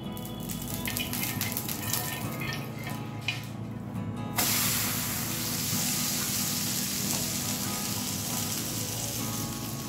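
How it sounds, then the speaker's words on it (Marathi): Spinach thalipeeth hits hot oil in a pan and sizzles, starting with a crackle that jumps into a loud steady hiss of frying partway through, with no talk. "हे बघा असं थालीपीठ मी टाकून घेतलेलं आहे तर आजूबाजूला थोडंसं तेल घालायचं आहे"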